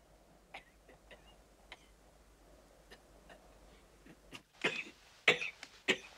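Several short, sharp coughs from one person, scattered sparsely at first and then coming louder and closer together near the end.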